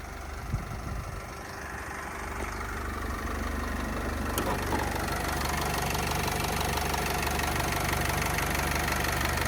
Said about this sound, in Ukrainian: Я думаю, чути роботу мотора.